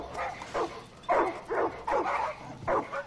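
A dog in the video game Far Cry 5 barks repeatedly in short, fairly loud bursts, about half a dozen woofs at an uneven rhythm, with no talking.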